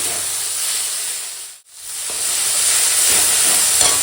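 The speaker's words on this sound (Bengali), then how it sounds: "এখন টমেটোটা একদম সুন্দর করে কষিয়ে নিচ্ছি" Tomatoes frying and being stirred in a pan, a loud close sizzling hiss that dips for a moment, then returns strongly with faint stirring clatter.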